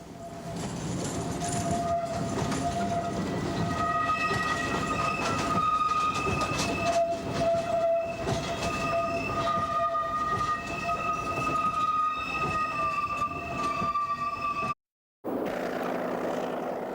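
A Class 40 diesel locomotive hauls a freight train past, engine droning steadily with sustained tonal whine and wagon rumble throughout, ending in a brief cut.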